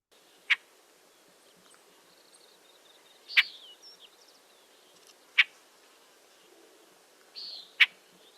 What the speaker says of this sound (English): That does sound like a California Thrasher call.